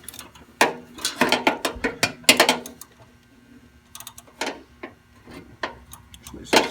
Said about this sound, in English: There's a socket here, a ratchet.